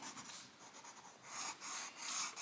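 Scratchy colored pencil strokes on paper, close and quiet, in short uneven bursts of shading that grow a little denser toward the end.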